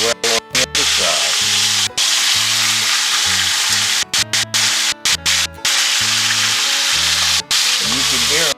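Chicken pieces browning in a pan, a steady loud sizzle and crackle of hot fat running throughout, with a voice talking intermittently over it.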